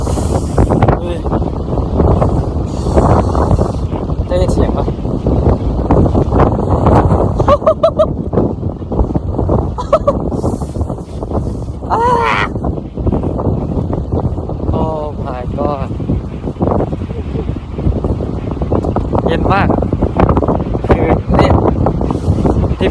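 Strong wind gusting and buffeting the microphone outdoors in the United States, a loud, continuous roar with rushing swells, mixed with brief talk.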